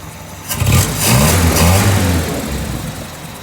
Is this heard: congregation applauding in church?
no